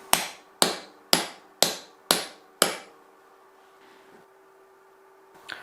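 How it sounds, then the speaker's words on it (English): Six sharp, evenly spaced metallic hammer taps seating a bearing into a 16-inch four-post planer's spiral cutterhead, each ringing briefly, followed by quiet and a faint final knock. "It's honestly just the weight of the hammer dropped from a couple inches."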